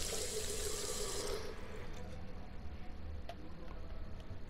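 Tap water running in the game Captain Spirit, a steady hiss of flowing water that cuts off after about a second and a half, leaving quiet room tone with a faint click.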